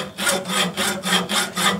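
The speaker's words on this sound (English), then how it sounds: "that's a lot of sawing for a soft metal" A hand saw rasps back and forth through a soft lead casting in four steady, even strokes, close and fairly loud, with brief pauses between each pull.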